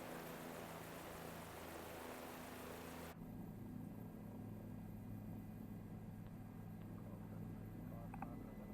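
A helicopter in Microsoft Flight Simulator 2020 drones steadily with a low, even engine and rotor hum; the sound cuts abruptly to a quieter, thinner tone partway through, with no speech.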